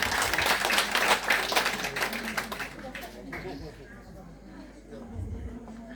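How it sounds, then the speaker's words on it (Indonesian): Audience applause at a thanksgiving reception for a nun's final vows, loud and dense for the first few seconds, then thinning and fading into quieter room noise with voices. "Kita beri tepuk tangan sekali lagi."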